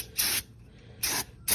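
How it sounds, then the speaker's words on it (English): Non-chlorinated brake cleaner sprays onto the front brake parts of a Ford F-150 in three short, close hissing bursts separated by quiet pauses. "So the next process you want to do is take it and just kind of take you some brake clean."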